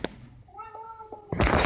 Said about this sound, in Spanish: tengo ahí a mi gato que ahora mismo me está tocando un poco los huevos